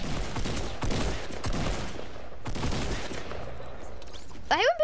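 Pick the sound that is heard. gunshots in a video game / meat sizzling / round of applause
gunshots in a video game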